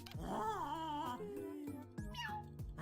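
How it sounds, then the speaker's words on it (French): A cat meows loudly in a long, wavering, drawn-out cry, then gives a shorter, higher yowl near the end, close up and with no one talking. "Il fallait faire miauler le chat au moment où il y a eu le screamer"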